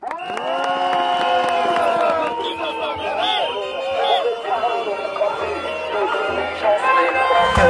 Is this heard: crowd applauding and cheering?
yes